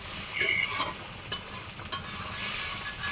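Beef pieces stirred and fried with spices in a pan in a rural home kitchen, with the ingredients steadily sizzling while a utensil scrapes through them at an irregular pace and gives a few sharper clicks, close and moderately loud.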